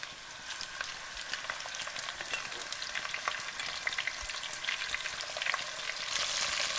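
Lamb pieces searing in a pot for stew, a steady bright sizzle and crackle of hot fat throughout, close and even, with no talk.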